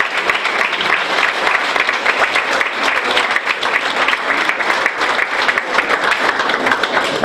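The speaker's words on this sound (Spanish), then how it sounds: "Un fuerte aplauso para ella." Sustained audience applause fills a festival presentation in Graus, a dense, steady wash of many hands clapping at fairly close range, with no talk over it.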